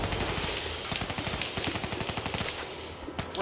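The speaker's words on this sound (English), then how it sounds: "We have to shoot through this glass, surely." Automatic gunfire in a first-person shooter video game, a fast rattling string of shots at close range that runs through the clip at steady loudness, with no talk.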